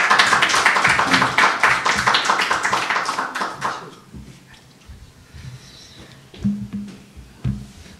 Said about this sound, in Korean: 여러분 박수로 환영하겠습니다